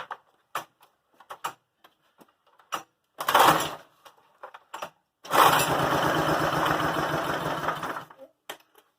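Small engine being pulled to start after the choke is set and the primer pushed, with scattered clicks and taps, a brief sputtering catch, then the engine runs for about three seconds before cutting out.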